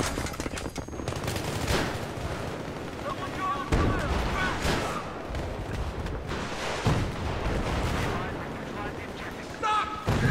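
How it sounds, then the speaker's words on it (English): Battlefield 3 combat on Damavand Peak: continuous gunfire and heavy booming blasts through the whole stretch, fairly loud, with a person talking over the battle. "Shot that guy in the head."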